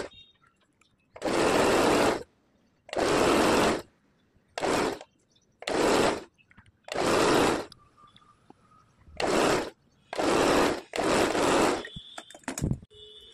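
A sewing machine stitches a katori blouse sleeve in about eight loud motor bursts of one to two seconds each, separated by short pauses with faint handling sounds.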